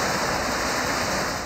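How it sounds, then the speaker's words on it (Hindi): Torrential rain and rushing floodwater in Sialkot, a dense, loud, unbroken roar of water with no pauses. "सियालकोट में बारिश का धुआंधार स्पेल।"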